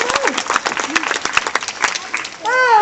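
Brisk clapping with a few sharp claps at a sea lion show at Flamingo Land, mixed with a voice talking and a squeaky, whining sound near the end.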